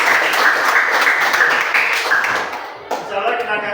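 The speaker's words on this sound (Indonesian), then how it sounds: "Aplaus dulu untuk kalian." A classroom group claps for students at the close of a counselling session, a dense, steady wash of hand claps that thins slightly near the end, with a voice speaking over it.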